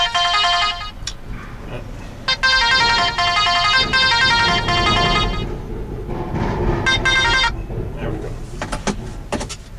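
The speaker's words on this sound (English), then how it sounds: "sorry, it's my phone." A mobile phone ringtone plays loudly and repeatedly in bright melodic bursts, cutting in and out over a room with background noise.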